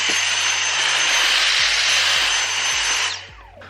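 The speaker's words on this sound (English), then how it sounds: "I'm just gonna take my little Dyson and like vacuum as I go, just because I don't want like wood pieces on the ground" A small handheld Dyson vacuum runs loud and steady at close range, its high whine holding for about three seconds while wood pieces from a shoe closet build are sucked up, then the motor winds down.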